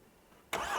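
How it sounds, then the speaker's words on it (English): The engine of a 2021 Hyundai Santa Fe catches abruptly after a quiet moment and settles into a loud steady run. "start the car"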